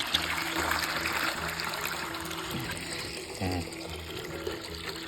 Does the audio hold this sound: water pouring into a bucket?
yes